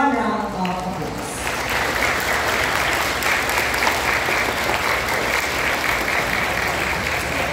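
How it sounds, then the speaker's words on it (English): A room full of people applauding a school principal at a Christian high school event, dense and sustained clapping that swells in after a brief moment of talk and holds steady at an even level. "Let's give her a warm round of applause."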